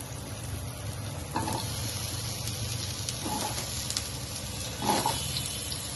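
Pumpkin pieces for a sweet frying in a hot pan, giving a steady crackling sizzle underneath three distinct scraping stirs spaced a second or two apart, close and without speech.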